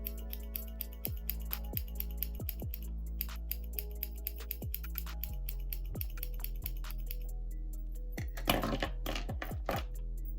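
Scissors point-cut upward into layered hair, giving a series of sharp, crisp snips at irregular intervals, close and clear over a low steady hum, with a brief rustle of hair near the end.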